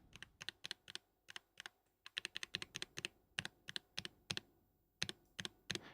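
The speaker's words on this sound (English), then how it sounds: "this is what the silent keys on my Knob One sound like" Silent-switch keys on a Knob One mechanical keyboard being typed on, giving quick soft muted taps in uneven bursts, close and alone in a quiet room.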